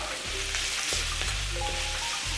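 Red and green peppers sizzle and fry in a pan as they are stirred, a steady hiss with soft scraping stir strokes over the crackle, close and fairly quiet.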